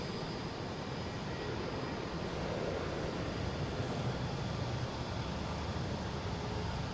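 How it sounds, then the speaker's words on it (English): An American Airlines Boeing 737-800 airliner rumbles at Boston Logan, a steady, moderately distant jet engine roar that persists evenly without a break. "Here's American Airlines heading to Chicago. 737-800, flight"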